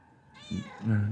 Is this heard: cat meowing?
yes